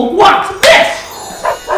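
A pet dog barks in short, sharp bursts close by, three or four quick yaps spread across the moment while a person speaks.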